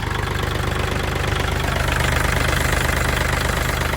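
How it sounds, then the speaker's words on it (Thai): A Kubota L4018 tractor diesel engine idles with a steady, even low thrum and fast rhythmic knock, close and loud throughout. "เดี๋ยวผมสตาร์ทเครื่องให้เบิ่งครับ เครื่องติดสตาร์ทติดง่ายนะครับ"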